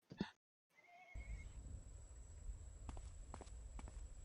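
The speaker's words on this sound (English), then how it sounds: "Oh no, yeah, the horses are coming." In a video game, a horse gives a short, sharp whinny, then after a brief silence a steady stream of hoofbeats and galloping builds into a continuous rumble with a few louder thuds on top.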